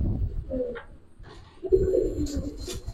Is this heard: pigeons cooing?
yes